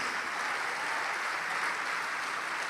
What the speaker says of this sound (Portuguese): Vamos aplaudir mais.